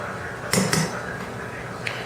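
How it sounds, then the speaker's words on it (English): A metal spoon scrapes and clinks against a dish while scooping filling out of baked potatoes, two quick close knocks followed by a faint later tap over quiet room tone. "we're going to take a spoon and we're going to scoop out the inside filling with our spoon"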